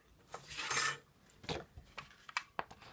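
A decorative label punch is pressed through paper, giving a bright crunching snap, then a few smaller clicks and light taps of paper and the tool on a tabletop, close and quiet.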